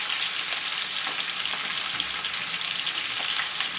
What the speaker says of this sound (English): Now I will fry the drumstick and potato a little bit